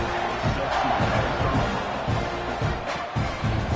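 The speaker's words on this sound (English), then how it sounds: "They're set to kick it off, and this crowd now ready to get behind them." Loud stadium crowd noise swells at kickoff in a college football video game, a thick, sustained roar of cheering voices that stays steady throughout.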